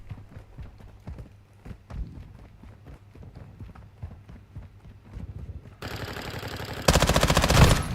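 Gunfire in Call of Duty Modern Warfare II, starting as a rapid run of sharp shots and clattering footsteps, then breaking into a dense, loud sustained burst of automatic fire toward the end.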